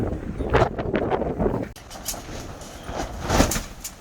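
Strong gusts buffet an outdoor microphone on a windy day, a broad rumbling roar that rises and falls with short surges and a sharp dip midway, near and loud with no voices.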